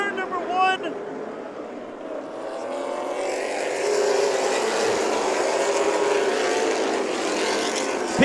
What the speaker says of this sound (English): A good restart for Peterson as he's all over the rear bumper of the 99 into turn number 1.